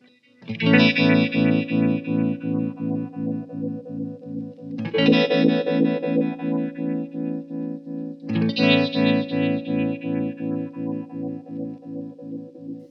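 A guitar chord rings out three times through a Spaceman Effects Delta II tremolo pedal with resonance, its volume throbbing rhythmically with a resonant, swirling, spacey character.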